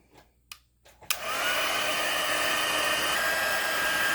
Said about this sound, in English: And now let me heat up our heat tool.